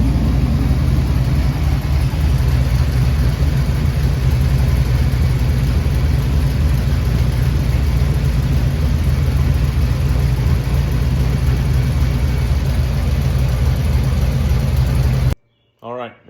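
A car engine runs steadily with a dense, constant low rumble for about fifteen seconds after its exhaust is fitted, then cuts off abruptly, leaving a brief quieter tail.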